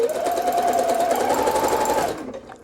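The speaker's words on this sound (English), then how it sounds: "I'm going to set the tension high, and again, I'll sew a zigzag stitch." A sewing machine running a zigzag stitch with the thread tension set high, a steady fast rhythmic whirring for about two seconds before stopping, close and loud with no talk.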